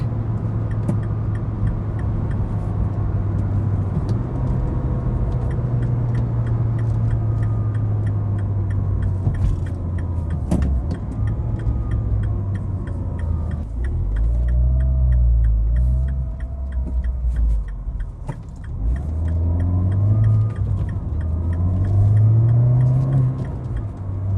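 A 2011 Mini Cooper JCW engine pulls hard above 4,000 RPM from inside the cabin, a steady droning roar with rising and falling pitch as the revs climb and shift, with road rumble underneath.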